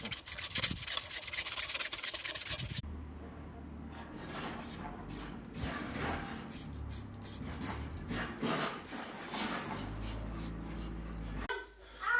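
Hand sanding with 120 or 180 grit sandpaper on a stove pipe, rhythmic back-and-forth rubbing strokes after a loud burst of noise at the start, fairly close and moderate in level.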